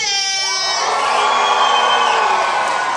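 Arena audience at a Texas lumberjack show cheering for the competing teams, a burst of loud whoops, shouts and sustained crowd cheering that swells and holds for a few seconds.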